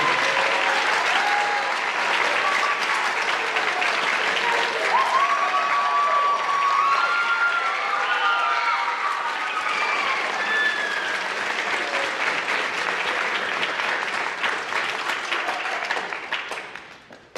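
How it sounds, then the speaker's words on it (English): Sustained audience applause with some cheers at a university high school band concert, honoring an advanced percussion ensemble; loud dense clapping holds for many seconds, with scattered shouts and whoops riding on top, before tapering off at the end. "Give them a round of applause."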